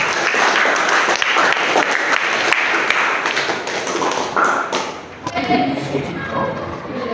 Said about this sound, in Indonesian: Tepuk tangan dulu untuk kita semuanya